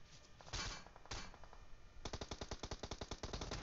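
Rapid video game gunfire in a driving-and-shooting match: a couple of heavy single shots, then a fast, steady automatic burst of evenly spaced bangs, loud and up close.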